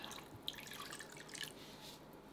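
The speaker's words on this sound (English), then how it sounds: "Then we're going to pour enough water" Water is poured over black sands during gold processing, giving a faint, soft trickle with a few light drips and splashes in a quiet setting.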